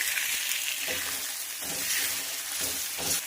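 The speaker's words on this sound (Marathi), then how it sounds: "आणि छान असं फ्राय करणार आहे" Beaten eggs for street-style anda bhurji fry in a hot pan, giving a constant loud hiss and sizzle with rhythmic stirring strokes underneath.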